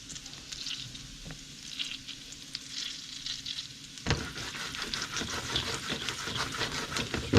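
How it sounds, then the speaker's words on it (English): Venison tenderloin sears in a hot pan with garlic, a steady close sizzle that jumps louder about halfway through as more meat hits the oil, then crackles on without talk. "I'm gonna throw the meat on, maybe a minute, 2 minutes, probably 2 minutes each side"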